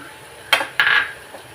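A spoon scrapes and clinks against a pan while mixing squid thoran ingredients, two sharp close metallic strikes followed by a brief ringing scrape, then quiet.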